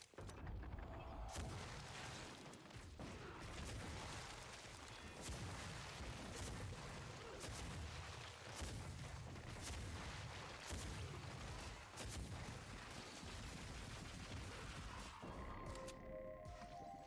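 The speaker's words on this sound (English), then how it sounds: "cannon from Serious Sam." A heavy cannon firing over and over in the video game Project Warlock II: a dense, loud barrage of booming blasts and crashes that keeps going for about seventeen seconds.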